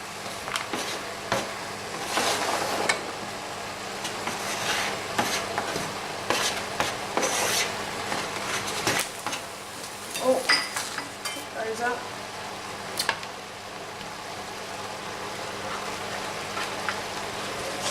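Vegetables stirred around a small, full pan for a cottage pie, with a steady sizzle under repeated scraping and clinking strokes of a utensil against the pan, close and moderately loud.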